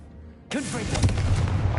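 A blasting spell in the video game Hogwarts Legacy fires with a sudden loud boom out of near silence, followed by a rumbling, crackling explosion that keeps sounding to the end.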